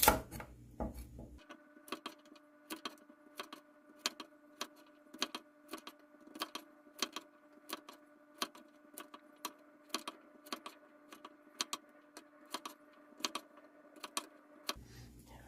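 A knife slices peeled garlic cloves into thin flakes on a cutting board, a run of crisp, evenly paced taps close by with no talk.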